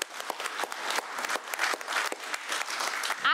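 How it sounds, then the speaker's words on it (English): An audience claps steadily, a moderate burst of applause from a room of people that holds fairly even throughout. "the wonderful chaps, Gary and Stuart, a round of applause for them."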